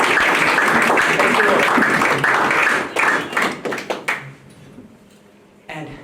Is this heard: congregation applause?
yes